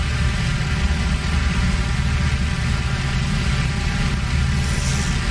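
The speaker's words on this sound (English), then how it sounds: "Do left engine start, right engine start." Engines of a WWII aircraft in a flight video game run steadily after start-up, a loud continuous low rumble with an even droning tone and no pauses.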